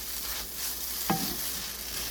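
Chilli egg Maggi noodles with spring onions being stirred in a pan, a steady low sizzle with one brief scrape of the spoon midway, fairly quiet and with no voices.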